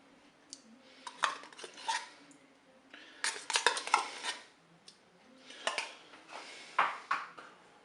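Tomato paste is stirred into cooked mushrooms in a Cookeo multicooker, producing bursts of clattering, scraping utensil strokes against the pot with short pauses between them.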